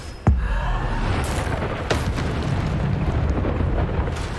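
In the video game Hogwarts Legacy, a Bombarda spell goes off as a sharp, loud blast followed by a sustained rumbling roar of debris and echoing noise over a few seconds.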